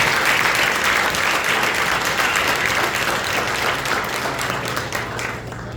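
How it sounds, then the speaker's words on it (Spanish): A church congregation at Sunday worship claps for the Lord in a sustained, dense round of applause that fills the room, with faint voices underneath. "Den unas palmas al Señor."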